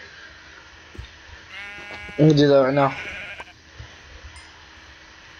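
A Minecraft sheep bleats once in a short, wavering cry near the middle, while a player speaks briefly just before it over quiet game ambience.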